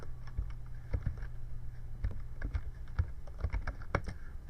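A computer keyboard is tapped out in quick irregular clusters of close, crisp keystrokes as a website address is entered, over a low background hum.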